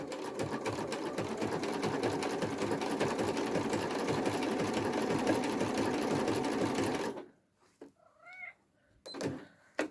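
A sewing machine stitching off the end of a quilt block runs at a steady, fast, even rhythm for about seven seconds, then stops, leaving a few faint clicks and a brief mechanical sound.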